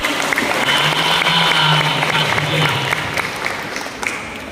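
A church congregation applauds during a sermon, a steady spread of clapping hands that holds and then tapers off, with a voice faintly heard beneath.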